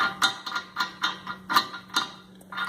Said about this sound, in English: attach this bolt to the stud, tighten it down